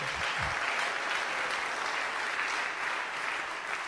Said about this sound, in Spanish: De aplauso al Señor, hermano.